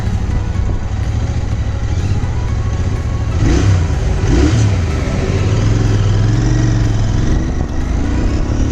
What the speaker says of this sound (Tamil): ஸோ வண்டியோட இனிஷியல் பிக்கப்புன்னு பார்த்தீங்கன்னா தாறுமாறாக இருக்குது